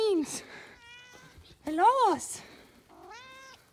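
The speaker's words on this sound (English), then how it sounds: "You little barn kitties." Barn kittens meow close by in a few high, wavering calls, some short and one drawn out, with a person talking to them between the cries.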